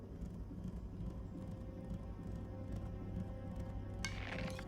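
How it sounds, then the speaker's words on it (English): Horse hooves moving uphill in a video game, a steady muffled clip-clop under a dense rumbling ambient bed, fairly distant, with a brighter rustle near the end. "You hear that? Sounds like a horse. It's moving. Uphill."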